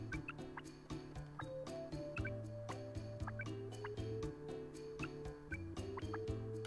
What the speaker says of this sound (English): But there's a weird noise for the shower.